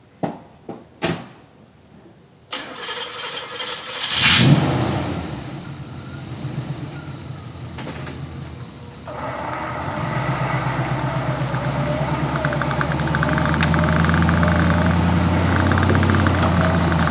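An off-road vehicle engine rumbles during a winch recovery on a mountain trail, starting after a few sharp knocks and a loud swell, then settling into a steady, fairly close idle with no talking.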